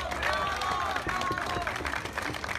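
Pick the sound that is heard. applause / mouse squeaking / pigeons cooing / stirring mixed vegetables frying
applause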